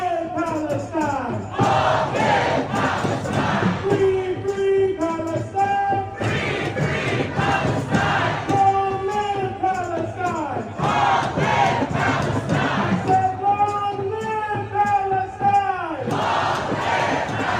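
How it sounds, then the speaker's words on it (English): A large crowd at a pro-Palestine protest in Washington, D.C., chants in loud rhythmic unison, the massed voices rising and falling in repeated call-and-response phrases throughout. "So you can see a pretty big crowd there, pretty healthy sized crowd there."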